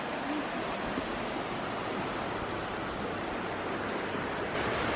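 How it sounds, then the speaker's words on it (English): Rushing creek water fills the scene with a steady, broadband hiss, constant and unbroken, with no voices. "we have a beautiful creek rushing behind us."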